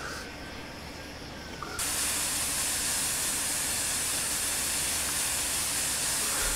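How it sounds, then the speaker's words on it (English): A steam locomotive lets off a loud, continuous hiss of steam that suddenly jumps in strength after a quieter opening and then holds steady and close, with no voices. "These things have been described as a giant kettle on wheels,"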